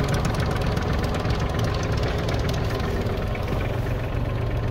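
An ISEKI GEAS 33 compact tractor, dusted in flour and fitted with a rotary tiller, runs steadily with a low, even engine drone and a rapid mechanical ticking, loud and close with no voices.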